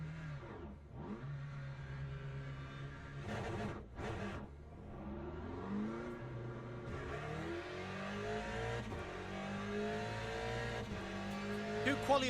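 Race car engine in the Le Mans Ultimate racing game, revving and shifting through gears on a cold-tyre out lap, rising and falling pitch sweeps with brief dips, fairly quiet with some talk over it.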